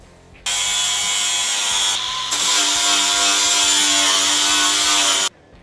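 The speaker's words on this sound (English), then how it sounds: "So just grind it off, taper up, put a bit of bondo on, sand it off, and paint it." A grinder works rust off a car body, a loud, close, steady high whine that runs for about five seconds with a brief dip partway through, then stops.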